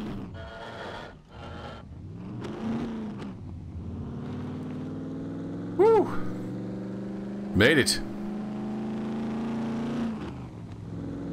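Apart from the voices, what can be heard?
truck engine driving and revving in video game SCUM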